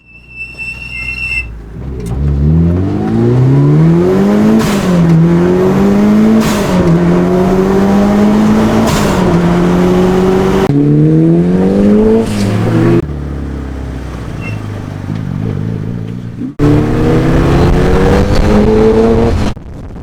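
A Mitsubishi Lancer Evolution accelerates hard, its engine revving up repeatedly and loudly through several gear changes, heard from inside the car, with a brief squeal near the start.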